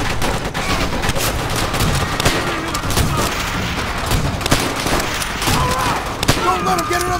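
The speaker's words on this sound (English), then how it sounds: "Enemy machine gun!" Machine gun fire rattles through a Call of Duty: World at War battle, dense bursts and shots continuing under shouted voices and general combat noise.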